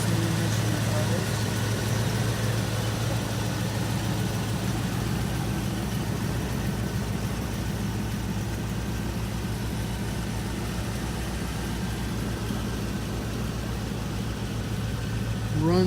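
A 1994 Range Rover County long-wheelbase sits idling as it warms up, giving a steady, low, even engine hum that continues unchanged throughout.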